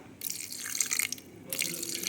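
Water is poured into a blender jar while making a chutney, giving a steady close splashing and trickling in two short bursts with a brief pause between them. No one speaks.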